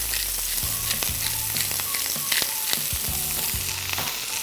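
Beef chunks searing in a hot pan for Texas-style barbacoa, a steady close sizzle broken by repeated low clanks and scrapes as the pieces are turned, with no talking.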